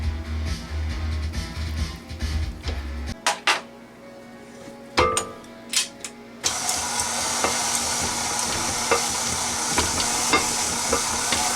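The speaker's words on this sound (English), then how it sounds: "Mix until just combined." Thick chocolate peanut butter chocolate chip cookie dough being stirred in a bowl, a steady scraping and mixing sound with a few sharp knocks midway, fairly close and with no talking.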